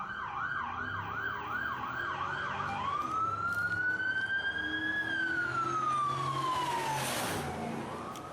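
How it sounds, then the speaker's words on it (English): Police sirens pass by, first a rapid yelp cycling up and down, then a long wail rising and falling as the vehicles go past, loud over steady traffic and engine rumble with no talking. "after the sirens go by"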